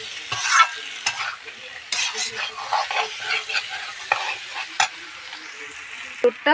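Jackfruit and prawns being stirred and sautéed in a pan, close sizzling broken by repeated scraping strokes and spatula knocks.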